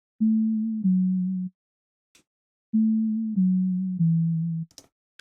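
A plain synthesized sine tone from Synthesizer V Studio 2 plays in sustained steady notes, two held then a pause, then three more stepping slightly down in pitch, with faint clicks between.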